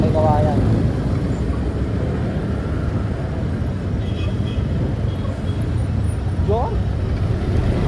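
City road traffic near Monumento Circle rumbles as a dense, steady wash of engine noise close by, with a brief horn-like chirp partway through.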